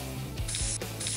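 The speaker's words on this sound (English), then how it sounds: "Bug spray. I'll give it a shot." Two bursts of bug spray hiss from an aerosol can in short, bright sprays, each lasting about a third of a second, close by over a steady low background hum.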